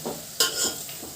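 Leftover roti stir-fried in a spiced tempering: a brief, quiet scrape of stirring with a soft sizzle of oil, with no voices.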